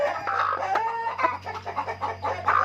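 Broody hen on a Thai poultry farm clucking repeatedly in soft, irregular bursts, with other chickens and a rooster audible nearby over a steady low hum.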